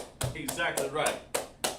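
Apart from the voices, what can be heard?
clapping for a young man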